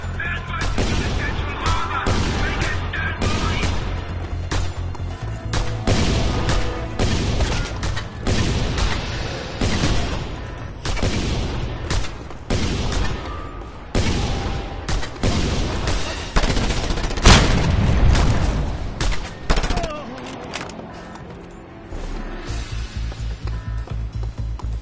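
Heavy mounted-gun fire during a stronghold assault in Just Cause 2, with rapid bursts and booms layered continuously and loudly over mechanical clatter, the barrage thinning briefly before resuming.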